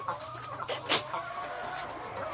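Chickens on a small farm cluck steadily, several birds calling in overlapping bursts at moderate distance over a constant low background hum.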